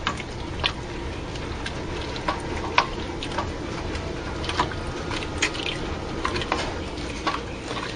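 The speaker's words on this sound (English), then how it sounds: "So just stir it up, get the bacon spread around in there." Bacon pieces being stirred through a pot of potato soup, giving soft scattered scrapes and ticks of a spoon against the pot over a steady low background hiss, close and fairly quiet with no talking.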